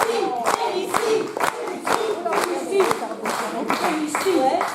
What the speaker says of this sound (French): franchit la ligne d'arrivée sous les applaudissements du public. Un public qui n'hésite pas à scander son nom